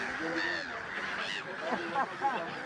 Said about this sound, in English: A family with different bird species that stay and feed together.